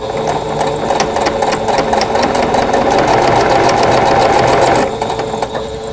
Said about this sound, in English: Now I'm going to go through and just sew the first 2 pieces of each row together and just chain piece them together.